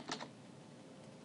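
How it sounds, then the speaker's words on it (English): A passphrase being typed on a computer keyboard: a couple of quick key clicks at the start, then faint background hiss. "And so we type that in."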